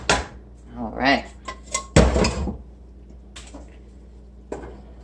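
A pot of homemade soup with pasta and vegetables being stirred, with close metallic clinks and scrapes in several bursts, busiest in the first half, and a voice faintly present at moments.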